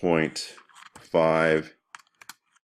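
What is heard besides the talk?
typing on a computer keyboard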